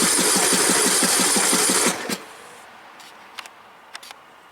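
A Troy-Bilt Pony riding lawn mower with a 17.5 HP 500cc engine cranks in a fast rhythmic chug for about two seconds, then cuts off, leaving a few faint clicks.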